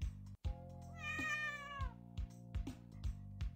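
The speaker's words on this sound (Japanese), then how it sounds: "あれあれ、猫がいる。" A cat meows in a Japanese werewolf-style mystery smartphone game with full character voices, giving one long, clear, drawn-out meow over the game's background music, followed by short soft sounds.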